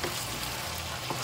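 Food stirred in a frying pan during a Congolese African home-cooking session, a steady close sizzle with faint scraping of the utensil, continuous and fairly soft throughout.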